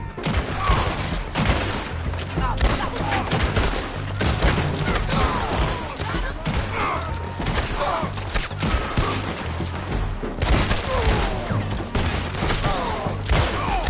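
A dense, continuous gunfight in the Western video game Red Dead Redemption 2: rapid overlapping gunshots, booms and impacts, loud and relentless, with shouting voices mixed in.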